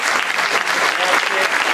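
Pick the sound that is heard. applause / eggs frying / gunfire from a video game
applause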